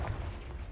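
A Confringo blast spell goes off in the video game Hogwarts Legacy, a deep rumbling explosion that fills the whole moment with a heavy, sustained low boom and no voices.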